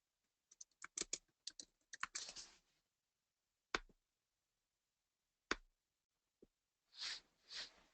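Typing an access code on a computer keyboard, with bursts of quick close key clicks, a few isolated taps after pauses, and two soft swishes near the end.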